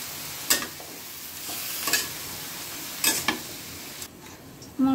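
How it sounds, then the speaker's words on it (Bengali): Vegetables being stirred with salt, chili powder and turmeric in a pan, a soft sizzle underneath with a few sharp scraping clatters of the spoon against the pan, close and alone without speech. "সব মশলার সাথে সবজিটা মিশিয়ে নয়।"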